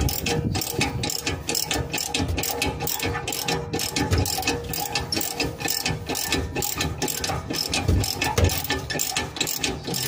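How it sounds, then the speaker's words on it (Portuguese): Ratchet wrench clicking rapidly and continuously while loosening the rear exhaust muffler bolts on a Vectra, close and loud with a steady rattling rhythm. "A catraca é mais rápida."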